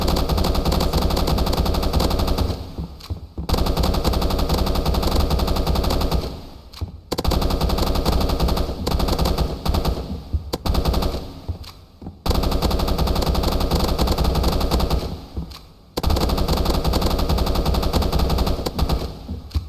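Sustained automatic machine gun fire in the online shooter Banana Shooter, loud and continuous bursts lasting several seconds each, separated by brief pauses, with no talking.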